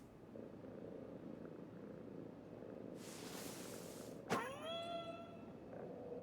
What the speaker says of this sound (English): it's a kitty cat